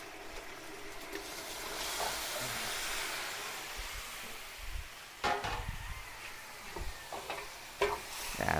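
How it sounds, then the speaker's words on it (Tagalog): Beef marinated overnight sizzles in a hot pan for a mixed pork, beef, noodle and vegetable dish, a steady frying hiss with a few louder clatters and scrapes of stirring toward the end, no talk. "Ang ating pong minarinated na baka kagabi, ilagay na po natin."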